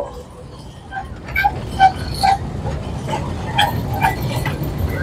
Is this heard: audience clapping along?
no